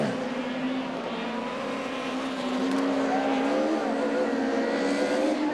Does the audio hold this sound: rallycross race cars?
yes